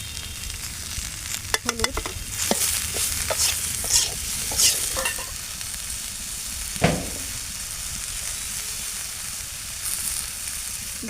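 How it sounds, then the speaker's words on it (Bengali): Water lily stems fry in oil in a wok with salt, giving a close, steady sizzle broken by scraping stir strokes, while a voice speaks a single brief word. "কড়াইতে তেল আছে, আর তেল দেবো না, এর ভিতরে শাপলাটা দিয়ে দেবো"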